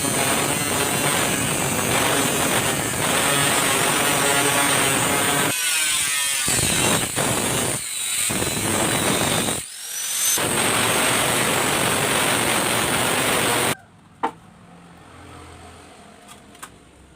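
A power tool cuts into a steel car muffler with a loud, harsh, high-pitched grinding whine that stops briefly several times, then goes quiet near the end, leaving faint clicks.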